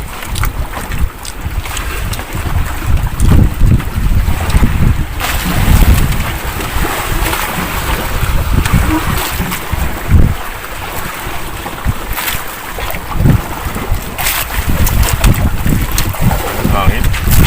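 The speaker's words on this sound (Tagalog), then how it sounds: "Hangin." Strong wind buffeting an outdoor microphone at night on the water, a loud, continuous roar with gusty thumps and rumbles, and voices talking faintly underneath.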